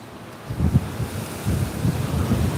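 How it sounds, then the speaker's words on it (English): A strong 30-40 mph wind gust while fishing outdoors in the cold, heard as low, uneven rumbling buffets against the microphone that rise and fall in quick pulses. "30, 40 mile an hour wind gust right there."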